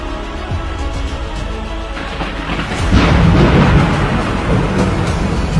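A deep rumble of thunder rolls under steady rain, then the downpour swells louder and heavier, a loud continuous wash of sound.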